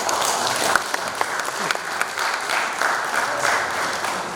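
Audience applause for the publishers at a book presentation ceremony for ten TETFund books, steady clapping from a seated crowd with a few sharper individual claps standing out, sustained for several seconds.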